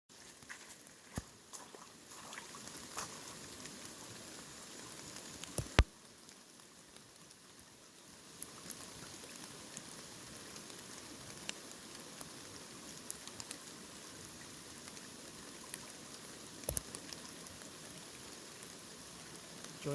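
Steady rain falls outdoors beside the Big Sevogle River in the Miramichi, a dense, even hiss of drops pattering on surfaces, with occasional louder taps and knocks nearby and no talking.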